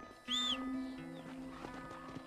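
A horse in the Red Dead Redemption video game lets out a sharp, close whinny, followed by soft snorting, hoof clatter and faint game sounds.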